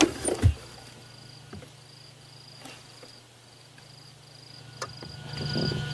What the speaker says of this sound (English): It's a rain locust, which we only hear every night.